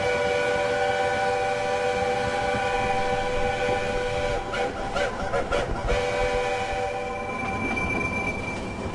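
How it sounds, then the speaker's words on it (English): A steam locomotive whistles steadily and loudly while descending a Balkan mountain line, the sustained tones running throughout over continuous train rumble and rhythmic wheel clatter. "our engine wasn't going to be outdone by some electric molten thing. It was whistling happily most of the way down"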